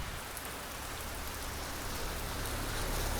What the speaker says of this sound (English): It's a pretty heavy downpour, but I've seen an awful lot worse.